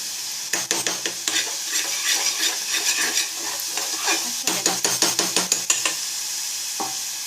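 A spoon scrapes and clacks repeatedly against a pan as chole masala roasts in hot oil, quick bursts of stirring strokes over a constant soft sizzle, with a pause and one final knock near the end.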